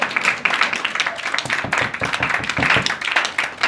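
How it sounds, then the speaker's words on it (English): A live audience at a talk on abundance versus scarcity mindset gives a loud, dense round of applause, steady clapping that runs the whole way through. "please give me a wonderful round of applause"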